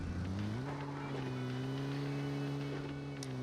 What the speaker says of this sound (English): There's a motorcycle, they hear it because I hear it.